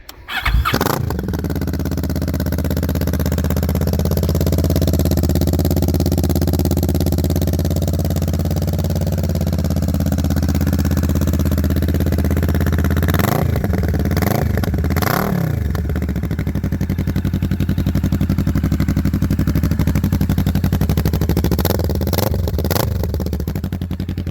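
A Kawasaki Vulcan S motorcycle with an aftermarket exhaust fires up outdoors and settles into a deep, throbbing idle with a loud rumbling exhaust, blipped into brief revs a few times.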